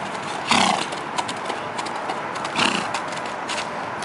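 A horse loping in western pleasure style sends out soft rhythmic hoofbeats at middle distance over a steady outdoor background, with a couple of louder snorting or blowing bursts.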